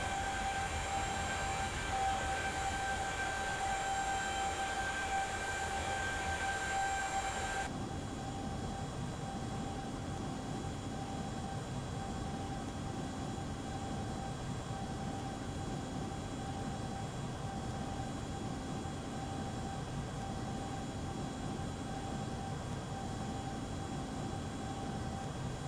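Steady cruise-altitude engine drone of an aircraft flying at 5,000 feet and 355 knots in FSX Flight Simulator, a continuous broadband roar with faint tonal hum that drops slightly in level partway through, no talking.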